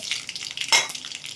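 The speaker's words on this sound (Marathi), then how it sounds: "मोहरी छान फुलली का जिरे टाकणार जिरे" Mustard seeds and cumin crackle and sizzle in hot oil in a pan, a close, bright continuous spatter with one louder burst of popping midway.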